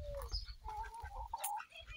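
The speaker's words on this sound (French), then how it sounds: "Ensuite, là, j'ai 2 nouvelles poules." Laying hens, including a Coucou and a Warwick, make faint clucks and short calls, quiet and close, with a low rumble of background noise beneath.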